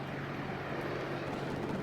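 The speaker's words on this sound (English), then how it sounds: "we should have another helicopter flying over from the side of us" A helicopter in the Arma 2 military game passes overhead, producing a steady, loud, droning rotor and engine roar that fills the whole moment without pause.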